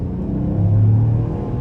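A 2024 Ford Bronco Sport Big Bend's three-cylinder engine hums inside the cabin on a test drive, a steady low drone rising slightly in pitch midway.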